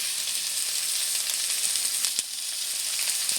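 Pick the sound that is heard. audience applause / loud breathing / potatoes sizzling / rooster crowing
potatoes sizzling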